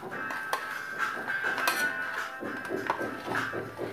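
Spiced eggplant and potato pieces are stirred in a pan, producing steady metallic clinks and scrapes of a utensil against the pan in an uneven rhythm.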